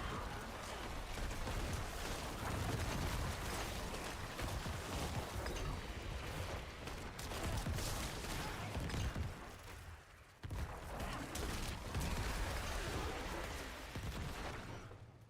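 Explosions in Diablo rumble as a loud, sustained roar of overlapping blasts and crackling debris, with a brief drop in the din before another heavy burst takes over.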